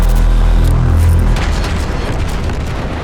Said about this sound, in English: firing Chapaev's cannons is like firing a machine gun with sniper accuracy